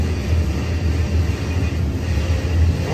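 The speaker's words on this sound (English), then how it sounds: "He's got the throttle band plate open a little bit, so he's gonna idle it down." Low steady rumble of an LS V8 engine idling on a dyno, a constant drone with no rev changes, alone without voices.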